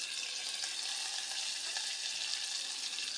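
Green chillies and garlic sizzle in hot tempering oil for a yogurt kadhi, a steady close hiss with a faint crackle and no pauses.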